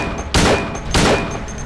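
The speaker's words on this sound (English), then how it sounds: "Fortunately, our gunshots do slow him down." Two loud gunshots in the survival horror video game Silent Hill 2, evenly spaced about half a second apart, each a sharp broadband blast with a short decaying tail over a quiet game ambience.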